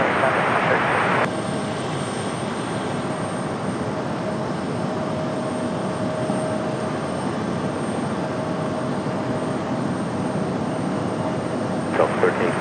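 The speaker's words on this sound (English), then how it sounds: "It's going to be that A220-100 back to Minneapolis here for this Delta." Delta Airbus A220-100 jet landing at Raleigh Durham airport: a steady, loud broadband engine roar holding at even strength throughout, with a faint high whine over it.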